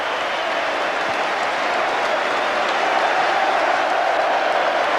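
At Wembley Stadium, a huge football crowd of Plymouth Argyle and Darlington supporters applauds, a continuous, evenly sustained roar of clapping and crowd noise after the match.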